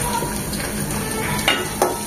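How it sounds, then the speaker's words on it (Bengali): Chopped garlic and onion frying in a pan, a steady close sizzle with a couple of brief stirring scrapes. "রসুন কুচিটা 1 মিনিট হওয়ার পর দিয়ে দেবো একটা পেঁয়াজ কুচির"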